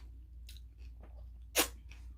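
Someone eating crispy tacos close to the mic, with soft crunching bites and one loud sharp crunch over a quiet low hum.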